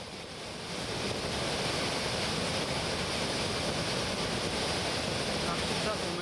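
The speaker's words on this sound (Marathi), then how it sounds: "नाशिकचा सोमेश्वर धबधबा पूर्ण क्षमतेने प्रवाहित झालाय" Someshwar waterfall on the Godavari river in Nashik flowing at full capacity: a loud, constant roar of rushing water that swells in the first second and then holds steady throughout.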